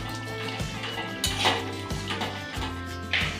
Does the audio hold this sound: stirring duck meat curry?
yes